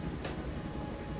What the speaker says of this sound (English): I always wanted to stop the train